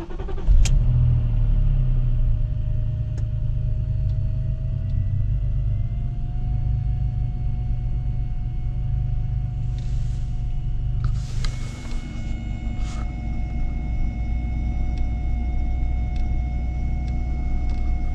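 A BMW 530i engine idles unevenly after a fuel pump replacement, a close, steady low rumble that wavers, with a brief click near the start and a few short mechanical noises partway through.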